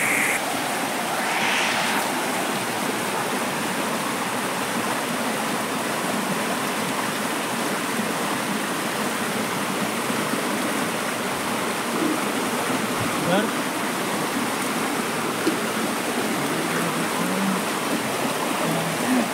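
River water at a Konkan crabbing spot rushes in a continuous steady wash, close and fairly loud, with faint voices now and then.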